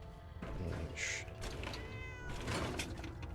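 A cat in the video game Fallout 4 with the Horizon mod lets out two or three clear meows, near and moderately loud, over a low ambient game background.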